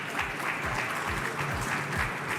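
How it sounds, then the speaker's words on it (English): Steady, dense applause from a large crowd at a ceremony honoring Indian sports icons, continuous and fairly loud throughout with no talking over it. "And let those claps keep going on."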